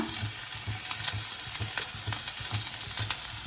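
Finely chopped ginger, garlic and green chilli frying in a pan, giving a steady, close sizzle with faint stirring ticks throughout and no voices.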